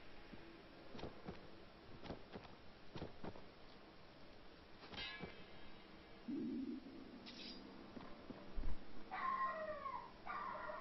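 A pet dog at home heard over video game sounds, giving scattered whimpers and yips with a drawn-out howling whine near the end, fairly faint and mixed with intermittent clicks and game effects.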